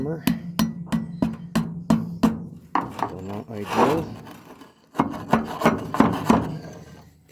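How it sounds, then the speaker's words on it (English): Repeated sharp taps from a hammer's wooden handle end, struck in a quick rhythm while seating a tractor end seal, pause briefly for scraping, then resume; a quiet voice speaks near the end. "a wood handle on a hammer"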